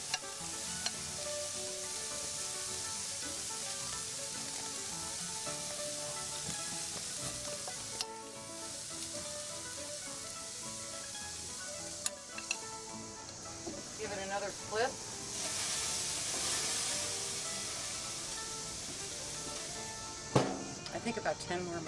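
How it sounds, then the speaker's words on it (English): Spiced Portuguese-style flank steak sears on a grill, giving a steady, close sizzle with crackles throughout, over a constant tonal background and a few sharper pops near the end. "right there so we can sear those spices onto it"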